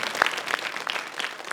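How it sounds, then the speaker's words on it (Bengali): A group of children claps in a brisk, scattered burst of applause, sharp individual claps overlapping at moderate loudness throughout the short moment. "জোরে হাততালি দাও।"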